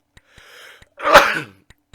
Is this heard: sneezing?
yes